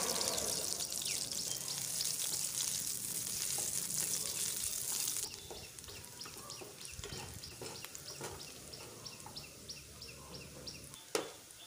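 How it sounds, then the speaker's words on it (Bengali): Chopped onions fry in hot oil for ghugni, a yellow pea curry, giving a steady bright sizzle that softens partway through, with a few scattered stirring scrapes and a sharp knock near the end. "এরপর পেঁয়াজটাকে ঠিকঠাক করে ফ্রাই করে নেব যতক্ষণ না রেড হয়ে যাচ্ছে।"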